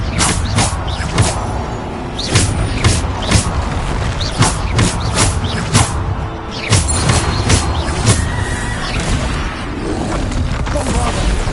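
Repeated Bombarda explosion spells in Hogwarts Legacy, a rapid series of sharp blasts and crashes landing roughly every second amid continuous game combat noise, loud and close.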